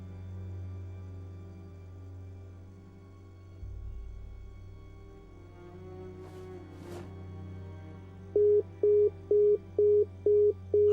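A dead landline phone gives a repeating beeping tone, about six short evenly spaced pulses near the end, following a quiet hum and handling noise from the handset being picked up.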